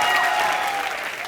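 A comedy show studio audience breaks into a brief, loud burst of clapping that fades slightly toward the end.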